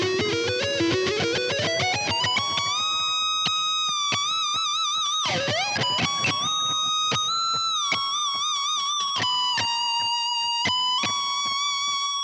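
Electric guitar solo phrase from a song, played alone with effects: a rising run into sustained singing notes, a wide string bend and slides, each note ringing clearly with a smooth, melodic tone.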